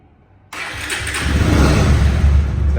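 After a brief quiet moment, a Bajaj Pulsar motorcycle engine self-starts, cranking and catching, then settles into a loud, steady rumbling idle close by.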